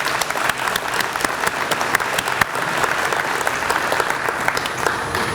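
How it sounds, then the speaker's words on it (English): A crowd applauds at the grand opening ceremony of the Academy for Technology and the Classics, with loud, sustained clapping from start to finish and no pauses. "let's just give all of us a round of applause for supporting and loving ATC"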